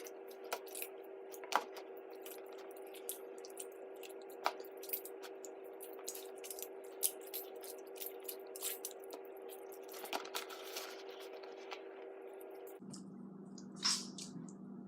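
Homemade slime putty being kneaded by hand over a bowl gives off quiet, scattered wet squishes and small clicks over a steady low hum.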